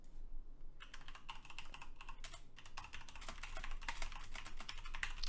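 Fast, steady typing on a mechanical computer keyboard, with dense clicky clacks that run almost continuously after a brief pause, close by and fairly quiet.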